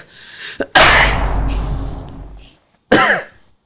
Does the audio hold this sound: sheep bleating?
no